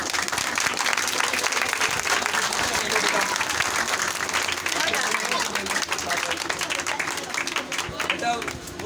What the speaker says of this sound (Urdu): آپ کی بھرپور تالیاں ہونی چاہیے